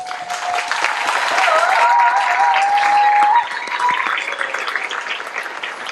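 An audience at a military training squadron graduation ceremony claps and cheers for an airman, dense applause swelling and holding loud for several seconds before easing, with a whistle rising above the crowd.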